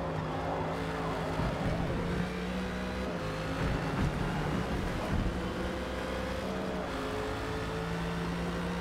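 A GT3 racing car in Forza Motorsport drones at high revs with a steady buzzing engine tone that stutters and pulses as it bounces off the rev limiter, sustained and fairly close, with no talking.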